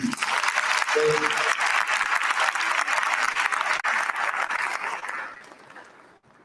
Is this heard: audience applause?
yes